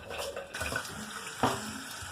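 Running tap water splashes in a sink during a morning kitchen routine, a close, steady hiss and patter that continues throughout with a brief louder splash near the end and no talking.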